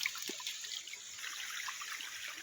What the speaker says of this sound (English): The sound of the water flow, so nice.